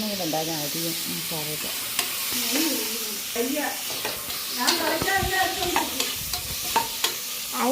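Masala fries and sizzles in a pan while it is stirred, with scraping spoon strokes and light clinks; a voice speaks briefly near the start.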